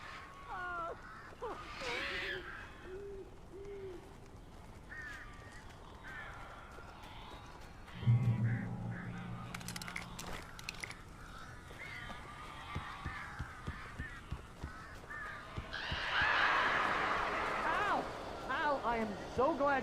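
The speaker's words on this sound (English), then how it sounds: "These birds are weird." Birds squawking and cawing like crows inside a cabin in the Alan Wake video game, with repeated harsh calls and fluttering under a voice and game dialogue, rising into a louder flurry near the end.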